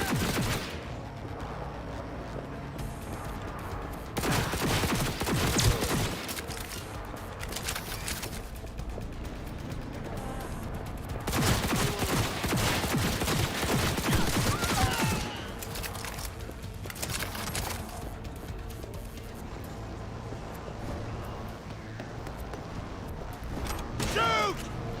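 Automatic gunfire bursts out during a firefight in the video game Cyberpunk 2077. Loud, dense volleys come in several waves over a busy background, and voices shout over the shooting.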